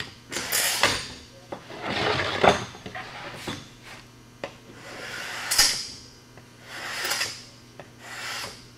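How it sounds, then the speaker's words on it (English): A hand scraper pulled back across a wooden cutting board to strip off dried glue, with repeated rasping scrapes at an uneven rhythm, each stroke a gritty close drag with short pauses between. "And you just take the scraper, pull it back to get most of the glue off."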